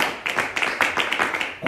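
A congregation at a church service claps hands together as an offering to God, with brisk, uneven claps over a short stretch.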